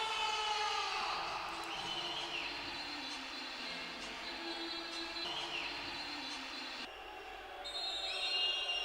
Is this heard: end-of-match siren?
yes